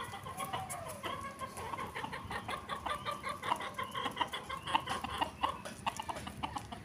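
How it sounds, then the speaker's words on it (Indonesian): Several chickens cluck in quick, irregular bursts, moderately close, passing in front of a house, over a faint background hum with no one talking. "Ada ayam lewat depan rumah."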